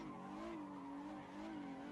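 In Assetto Corsa, a Nissan GT-R with a VR38 engine drifts, its steady, buzzing engine note wavering in pitch throughout, heard faint and distant with a hint of tire noise.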